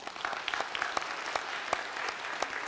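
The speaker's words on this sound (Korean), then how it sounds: "다시 한번 우리 하나님 앞에 영광의 박수 올리겠습니다." A Korean church congregation at a Sunday praise service giving a round of applause to God, brisk clapping from many people with individual sharp claps standing out, fairly quiet and close.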